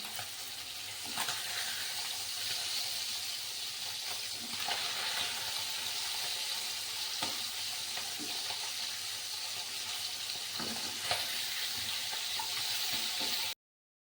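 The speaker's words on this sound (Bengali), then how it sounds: "তেল গরম হয়ে গেল তাতে আমি মাছগুলি ভাজতে দিয়ে দিচ্ছি" Steady crackling sizzle of tengra fish frying in hot oil, close and continuous, with occasional sharper pops and clicks.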